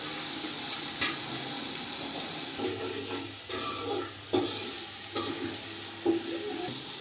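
Tomatoes hit a hot pan for a chicken biryani with potatoes, giving a soft continuous sizzle with a few clanks of a spoon against metal, close but moderate in level, no talking.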